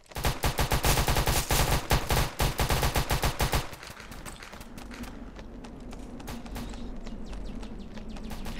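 Roblox shooter gameplay with a fast burst of rapid game gunfire, loud sharp repeated shots for several seconds that cut off abruptly, followed by a lower steady background hum.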